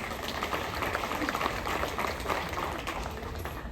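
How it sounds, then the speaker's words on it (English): Steady applause from an audience at a veterans tribute ceremony aboard the Royal Caribbean cruise ship Anthem of the Seas, a dense, continuous clatter of clapping that holds at an even level throughout. "let's give them also a big round of applause"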